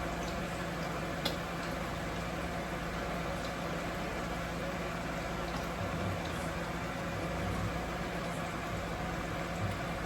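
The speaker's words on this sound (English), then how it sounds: "We got those frying up pretty nice." A steady, close sizzle of salmon cakes frying in a pan, constant and unbroken, with faint clicks and a low background hum.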